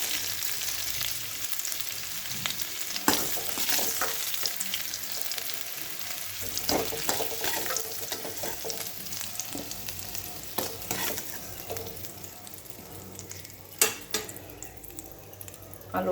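Potato pieces fry in oil with salt and turmeric, a continuous close sizzle broken by occasional sharp scrapes and clinks of a utensil stirring against the pan.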